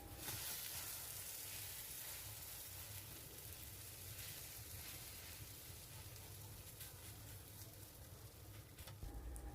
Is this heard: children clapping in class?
no